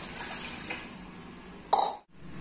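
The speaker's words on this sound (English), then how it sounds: "add little water in that cooker" Water pours into a steel idli cooker on a gas stove, a steady close splashing and trickle that ends with a brief clatter.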